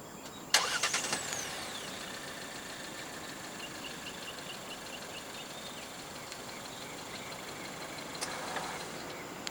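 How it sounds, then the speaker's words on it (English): A 2026 Proton X70 1.5 TD starts by remote start: a sharp crank catches near the start, then the engine settles into a quiet, steady idle, with a faint chirp and a light knock later on. "Standard for the MC3 X70 in Malaysia is a remote engine start system"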